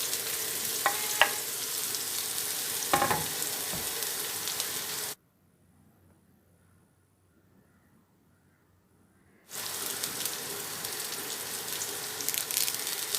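Onion fries in a pot with a soft crackling sizzle and a few stirring knocks, which cuts out into near silence for several seconds before the sizzle resumes.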